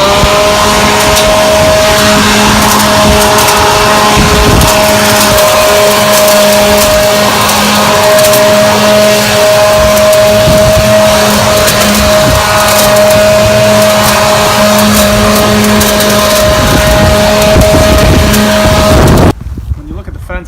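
A leaf-mulching machine sucking up fall leaves along a yard and fence line, a loud, steady engine roar with a sustained whine and gusty rushing noise, running continuously before cutting off abruptly at the end.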